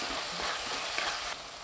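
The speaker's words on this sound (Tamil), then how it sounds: "இதை நல்லா வதக்கி விட்டுக்கலாங்க." Tomato with chilli powder and coriander powder sizzles and fries steadily in a pan for drumstick gravy. A spoon stirs it in soft scrapes, and the hiss stays even throughout.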